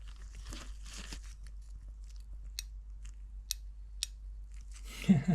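A repaired fishing reel gives a few sharp, separate clicks spaced about a second apart, close and fairly faint, followed by a short burst of handling noise at the end.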